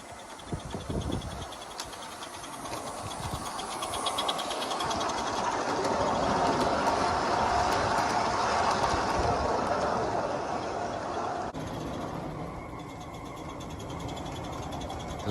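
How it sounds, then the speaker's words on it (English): A Roundhouse Engineering model steam locomotive runs along its track with a rapid, steady mechanical chatter and clatter, close by, that eases slightly near the end, with no voices. "This was my first foray into roundhouse engineering locomotives."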